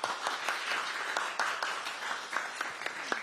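Audience applause at a Korean cultural awards gathering celebrating K-culture figures, a steady wash of many hands clapping with scattered sharper claps throughout, moderately distant and continuous without talk.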